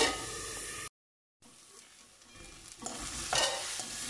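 Beetroot and carrot cook in a pan under a lid, giving a steady close sizzle with scraping stirs; the sound cuts out briefly, then returns louder and hissier as the lid comes off.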